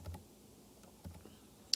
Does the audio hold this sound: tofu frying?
no